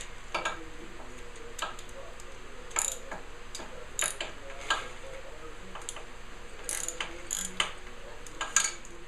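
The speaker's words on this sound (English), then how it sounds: "Oh, I have to get at that one with a wrench." A wrench ratchets during a valve adjustment on a Kawasaki KZ1000 engine, giving scattered bursts of sharp clicking with quiet pauses between them over a faint workshop background.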